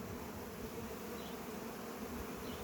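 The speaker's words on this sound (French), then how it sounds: "les abeilles gardiennes soldats qui viennent en renfort" Honeybees swarm and buzz at a hive as guard bees fight off robber bees, a dense, even drone of many wings close by and quiet.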